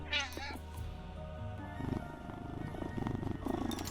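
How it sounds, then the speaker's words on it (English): A cat purring in the dungeon game PopUp Dungeon: a brief cry at the start, then a soft, steady, rumbling purr heard close up with no talk. "There's a cat purring at me."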